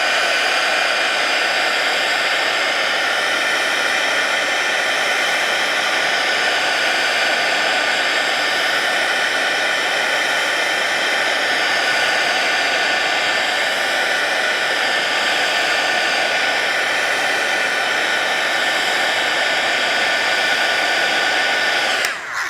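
Steady, loud hair dryer roar held close for over twenty seconds while drying gold watercolor paint on handmade Valentine's Day cards, an unbroken airy whir with no voices.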